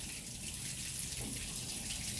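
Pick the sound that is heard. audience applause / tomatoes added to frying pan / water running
water running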